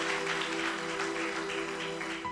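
Church congregation clapping together in steady, dense applause, with a sustained organ or keyboard tone running underneath throughout.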